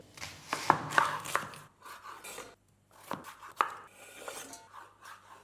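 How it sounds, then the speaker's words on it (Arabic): An onion is cut small with a knife on a board in quiet, close, irregular taps and knocks, grouped in short runs separated by brief pauses. "نقطعوا البصل تاعنا صغير."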